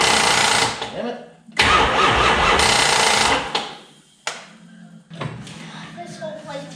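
A Dodge Challenger under restoration, running without a throttle, cranks in loud bursts with a starter whir and engine chug, stops, cranks again, then falls quiet before fainter clunks and mechanical noise follow nearby.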